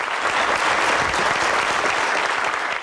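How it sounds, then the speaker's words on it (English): Standing ovation for Bill Clinton at Johns Hopkins during an opioid summit in Baltimore, a dense, continuous wash of clapping from a large crowd, steady and loud throughout. "A standing ovation greeted Bill Clinton here at Johns Hopkins"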